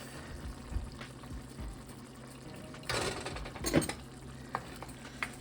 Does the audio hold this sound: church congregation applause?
no